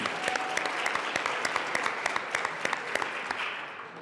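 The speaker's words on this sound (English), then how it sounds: "If we can give them a round of applause for coming today as well." Steady round of audience applause in a legislative chamber during a state House session, many hands clapping densely and evenly at moderate volume for the whole stretch, with no talking over it.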